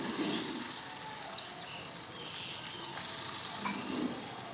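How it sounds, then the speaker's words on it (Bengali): Cauliflower pakoras in a gram-flour coating drop into hot oil and fry with a steady, close hiss and crackle that swells briefly at the start and again near the end, with no talking. "এবার তেলের মধ্যে ফুলকপিগুলোকে ছেড়ে দেব"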